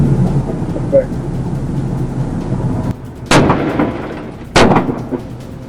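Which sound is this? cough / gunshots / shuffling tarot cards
gunshots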